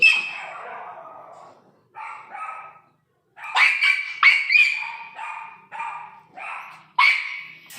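A big dog barks loudly several times in quick succession, some barks doubled, close by, with a short gap early on.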